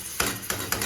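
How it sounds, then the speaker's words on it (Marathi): Garlic and green chili go into a hot pan over a high gas flame, giving three sharp clinks or scrapes spaced evenly against a constant close sizzle. "आता याच्यामध्ये आपल्याला हे लसूण आणि मिरची टाकून घ्यायची आहे"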